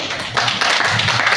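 Group applause in an indoor classroom or training session, a dense patter of many hands clapping at close range, fairly loud and steady with no talking over it.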